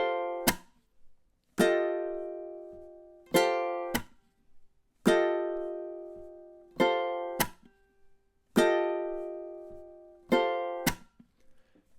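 Ukulele strums sharp chord hits from measures 22 to 24 of a theme in a syncopated pattern, each chord ringing briefly before stopping, with faint counting-like sounds in the gaps.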